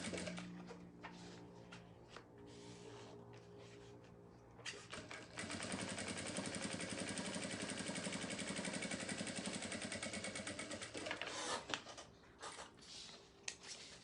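A sewing machine stitching the seam of a round sublimated vanity bag, quiet rustling at first, then a steady, fast mechanical whir running several seconds before slowing and stopping in short bursts.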